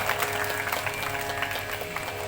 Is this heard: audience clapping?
yes